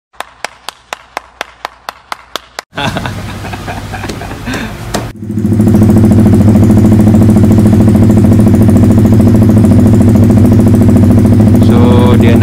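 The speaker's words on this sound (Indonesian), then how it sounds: "Sebab tu dia start enjin motor dulu, nak tengok ada terkeluar minyak ke, ada minyak menitik ke." A Yamaha R15 V3 motorcycle at its first 1000 km service, heard as a run of sharp clicks before the engine catches, then settles into a loud, steady, close idle.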